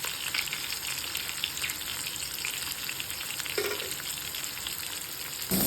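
Seabass pieces fry in hot oil seasoned with fennel and cumin powder in a home kitchen, giving a steady, loud, close sizzle with crackling throughout and a brief scrape near the end.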